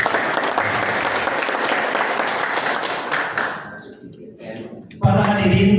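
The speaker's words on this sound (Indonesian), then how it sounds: "Tepuk tangannya mana?" An audience at an installation ceremony in a sub-district hall claps in dense, loud applause that fades out, then a voice over a PA breaks in.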